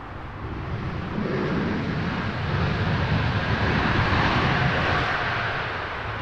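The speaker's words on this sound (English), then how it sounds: "ITA Airways touching down here on the north side" An ITA Airways airliner touches down on Heathrow's north side, making a broad, roaring jet rush that swells and then slowly fades, heard from a distance with no voices.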